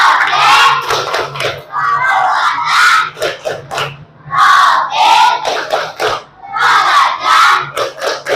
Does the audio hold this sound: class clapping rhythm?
yes